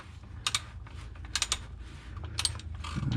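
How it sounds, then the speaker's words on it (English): Torque wrench set to 25 newton meters on a Scion iM or Toyota Corolla iM oil filter housing, giving sharp ratcheting clicks in short bursts over a low background rumble, close and fairly faint. "lock this in to 25 Newton meters"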